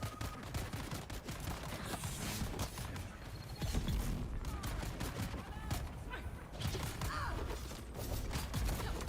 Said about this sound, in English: I got bullets coming from everywhere on me at this point. Holy crap, look at all the bullets coming at me.